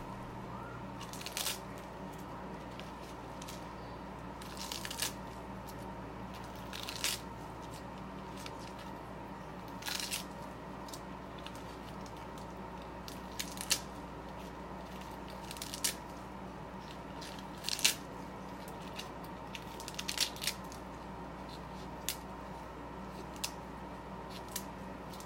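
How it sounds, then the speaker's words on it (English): A kitchen knife cuts through collard greens with sparse, crisp crunching slices spaced every few seconds, close and fairly quiet against a low room hum. "I wanted to show cutting it with an actual knife"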